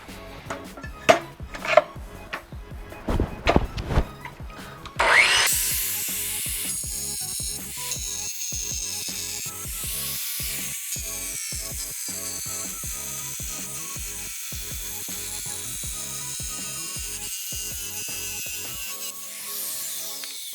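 Electric tile saw cutting marble scraps: a few sharp knocks and clatters, then the blade bites in with a loud, bright, sustained grinding whine that holds steady for about fifteen seconds before cutting off.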